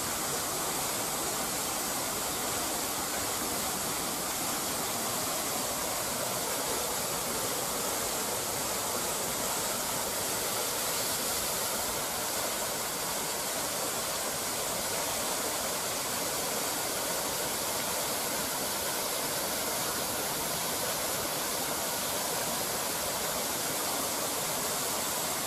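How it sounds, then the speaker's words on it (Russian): Water from a fountain in Warsaw's Saxon Garden in late September pours and splashes in a dense, even rush that holds steady and loud throughout, with no voices over it. "Меня буквально заворожил этот водопад, этот фонтан"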